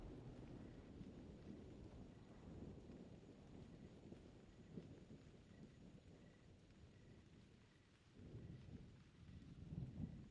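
Rain and rumbling thunder fill a storm in the video game theHunter: Primal, a steady wash of rainfall with low rolling thunder swelling near the end, heard alone at a quiet level.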